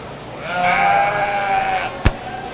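A single drawn-out sheep bleat, loud and close, rings out in a livestock show ring at a county fair, followed by a sharp brief knock near the end; no one speaks.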